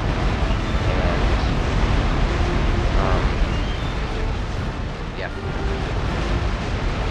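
Naval cannon fire in Empire Total War as a British second-rate ship of the line and flagship trade broadsides with Swedish ships, a dense rumbling barrage of distant booms under a brief spoken remark.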